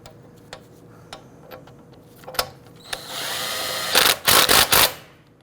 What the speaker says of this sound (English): Go ahead and torque down your lug nuts to 80 foot-pounds.